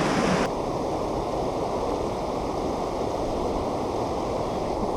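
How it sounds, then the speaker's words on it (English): Waterfall at River Park in Albany Park, Chicago, on the Chicago River: a steady, loud, close broadband rush of falling water that runs continuously throughout, with a slightly brighter edge at the very start. "we have a whole new waterfall"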